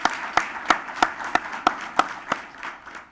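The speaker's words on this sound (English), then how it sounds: "Let's give them a round of applause for their support." Audience at a teacher of the year luncheon claps for board members, with a few sharp, evenly spaced claps standing out over a steady patter of applause that thins out toward the end.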